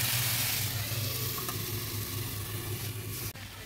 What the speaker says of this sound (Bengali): এবং দিয়ে দিচ্ছি চেরা কাঁচা লঙ্কা। ভালোভাবে নেড়ে রেখে দিচ্ছি।